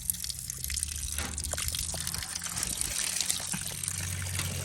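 Water drains steadily from the engine of a 1927 Chevy truck, a continuous close trickle and splash with low rumbling handling noise underneath and no talk.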